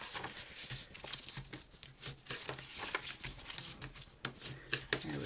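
Scissors snip and rustle through paper, quickly cutting off the outer corners of a folded paper explosion purse, a quiet run of crisp clipping and shuffling sounds up close.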